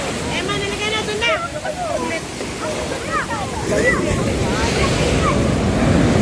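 Ocean waves surge and crash on a beach in a steady, broad roar with wind noise, while people talk over the surf.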